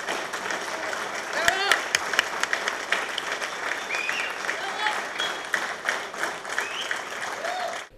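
Sustained applause from a concert audience welcoming an Argentine folk singer in Entre Ríos, steady dense clapping with some voices and cheers mixed in, continuing for about eight seconds.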